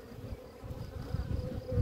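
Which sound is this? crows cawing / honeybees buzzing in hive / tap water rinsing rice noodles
honeybees buzzing in hive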